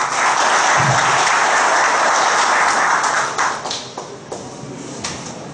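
Applause from an audience at a ceremony honouring military police officers, dense and loud at first, then thinning out to a few scattered claps as it fades.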